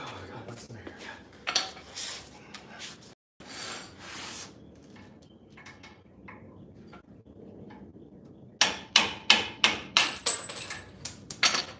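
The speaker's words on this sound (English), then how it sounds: "get the hammer." Metal hammer blows on a vehicle's suspension ring out in a rapid run of about eight sharp strikes near the end, after scattered knocks and taps earlier.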